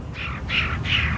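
Birds chirping in golf broadcast audio, three bright repeated calls about evenly spaced over a low background rumble, fairly close and clear, with no talk.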